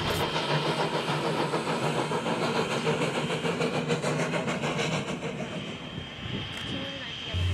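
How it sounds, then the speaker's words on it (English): A Virginia & Truckee steam train runs through an open field in a steady, loud, broad rumble with rhythmic chuffing texture and a low engine drone throughout, heard nearby without voices. "The train ambles through an open field just east of Lynon Road."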